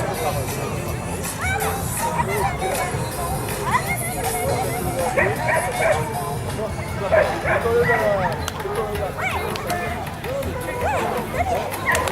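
Dogs bark and yip repeatedly at a winter dog competition held without hunting, their calls mixed with steady crowd hubbub and people talking throughout.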